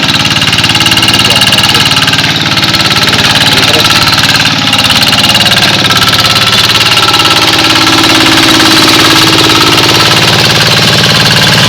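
A loud tractor engine drones steadily and close by with a rough, knocking idle, continuing without a break, while harrowing a rice field.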